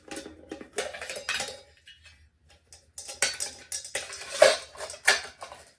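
Metal MSR camping pots clank and clink as outdoor stove parts are nested inside them, with bursts of close, bright rattling separated by a short quiet pause.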